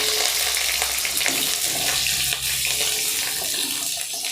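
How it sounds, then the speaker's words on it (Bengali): Potatoes frying in hot oil for a chicken curry, a loud, dense hiss that fills the whole stretch, rushing almost like running water, with no talking over it. "আমি তার উপরে আলুগুলো দিয়ে দিলাম।"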